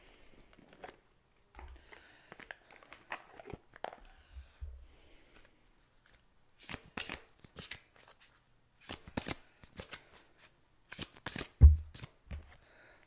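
Oracle cards being shuffled by hand, bursts of crisp riffling and sliding card sounds coming in irregular clusters, close and clear with quiet gaps between.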